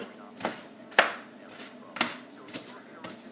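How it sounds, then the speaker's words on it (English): An onion being chopped with a knife on a cutting board in a home kitchen, sharp close knocks falling about every half second in an uneven rhythm. "I'm getting quite, like, annoyed chopping."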